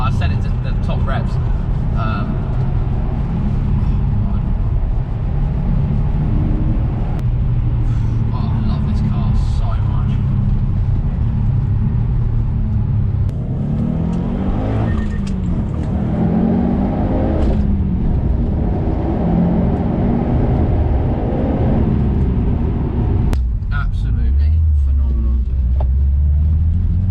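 Subaru Impreza WRX STI RB320 limited edition engine and louder aftermarket exhaust, a steady loud in-cabin drone with rising and falling rev sweeps as the car drives and shifts, heard under ongoing talk.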